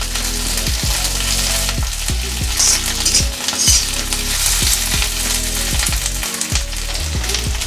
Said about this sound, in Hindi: बस एक आधा मिनट तक ही भुनना है हमें।